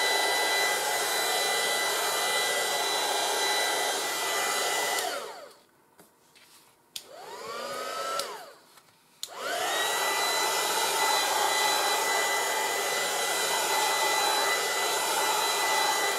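A hair dryer blows on a 30x30 scrapbook page with a loud, steady airy roar. It drops out briefly near the middle as it is switched off and the fan whines down, then it starts again and runs to the end.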